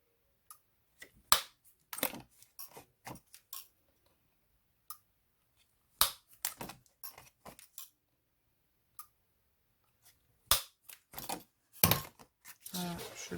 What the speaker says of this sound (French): on prend notre petite machine pour faire les trous